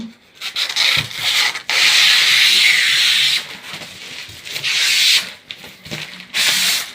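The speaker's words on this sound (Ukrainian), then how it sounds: "Тепер знімаю плівку." Protective film is peeled off a warm window reveal in a series of loud, close, rasping rips, each lasting a second or two and separated by short pauses.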